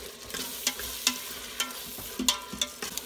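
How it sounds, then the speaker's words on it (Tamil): Chopped Roma tomatoes sauté in an Instant Pot for goat biryani: soft sizzling under a series of quiet, spaced spoon scrapes and taps, close and alone. "நல்லா வதக்குங்க அது மஷியாகிற வரைக்கும்."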